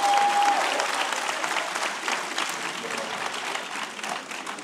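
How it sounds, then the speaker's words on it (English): An audience at a civil rights history celebration applauds steadily for nearly five seconds, a dense, even wash of clapping that slowly thins toward the end, with a brief tone at the start. "That deserves a round of applause"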